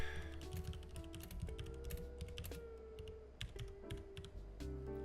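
Computer keyboard typing during a trading session, a steady run of quick clicky keystrokes close by with no talk, over low background hum.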